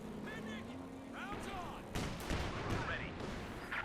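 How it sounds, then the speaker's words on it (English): Sharp bursts of Flak Panzer gunfire in Company of Heroes 2 crack out around the middle, mixed with tank and battle noise while a commentator talks over the action. "Rather under fire there from the Austrian Flak Panzer."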